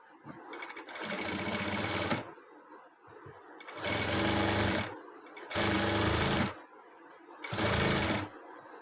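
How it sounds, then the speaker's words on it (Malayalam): A sewing machine stitches fabric in four distinct bursts of rapid, buzzing stitching, each lasting one to two seconds, separated by short quiet pauses, close and clear. "ഇവിടുന്ന് തയ്ച്ചിടുക"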